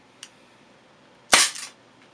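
A single sharp, loud shot from a Dan Wesson 2.5-inch CO2 revolver, a crisp crack with a short hissing tail, preceded by a faint click, with no talk.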